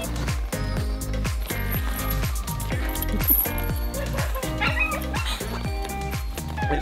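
Sled dogs in Lapland, Sweden, bark in loud repeated yips close by, with excited whimpers mixed in and a continuous chorus from the pack behind.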